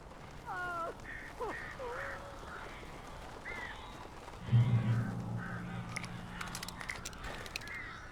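Crows caw in Alan Wake Remastered, a few scattered harsh calls up close, followed by a low rumbling and rustling stretch with faint chatter in the game's ambience.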